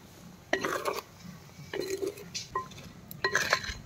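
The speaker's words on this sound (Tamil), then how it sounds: "கரைஞ்ச கருப்பட்டியோட சேர்த்து எல்லாத்தையும் நல்லா கிண்டிக்கலாம்க்கா" A dissolved palm jaggery (karupatti) mixture is stirred in a pot, giving several separate bursts of scraping and metallic clinks from the utensil against the vessel, quiet and close, with no talking.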